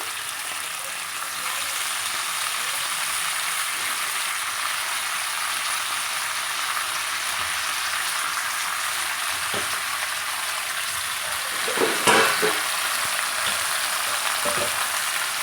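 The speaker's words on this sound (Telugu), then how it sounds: "ఇలా ఆయిల్ హీట్ అయ్యాక ముందుగా మనం కడిగి పెట్టుకున్నటువంటి ఒక కట్ట గోంగూర వేసుకొని" Washed gongura (sorrel) leaves hit hot oil with a steady, broad frying sizzle that holds for the whole stretch, with a few louder crackling bursts near the end as they are stirred; no talking.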